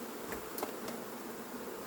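Honeybees from a recently settled swarm buzz faintly around a cardboard box during a swarm collection, a steady low drone with a few brief, closer passes of individual bees.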